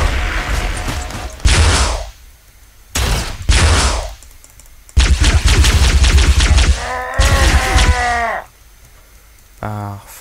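Gunfire in the Halocraft Minecraft mod campaign: loud rapid bursts of video-game weapon shots in several volleys, some with a whining, ringing tail, amid game sounds and speech.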